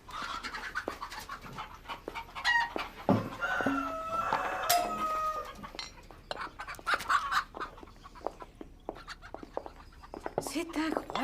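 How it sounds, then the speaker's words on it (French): Hens and young roosters cluck and squawk around a poultry yard, scattered calls near and far, mixed with panting and rustling while people talk. "C'est incroyable, toute cette volaille que vous avez."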